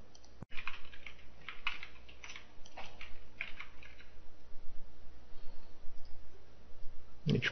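Computer keyboard typing, with scattered light key clicks tapping in irregular bursts over a quiet background, after one sharp click at the start.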